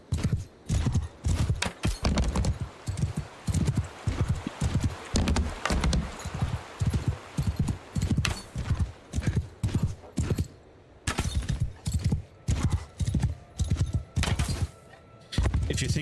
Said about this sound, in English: This horse is very slow.